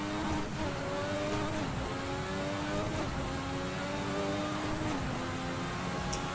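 A Formula RSS 1986 V6 race car engine in the Assetto Corsa racing game revs continuously, its pitch climbing and dropping through gear changes, steady and prominent with no one talking.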